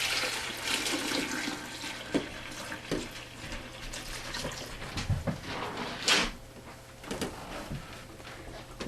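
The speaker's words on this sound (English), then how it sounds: "you pour in your cream and your milk" Cream and milk pour from a pitcher into the container of an old-fashioned hand-churn ice cream maker, a steady close-up splashing stream of liquid with a few brief surges and no talk.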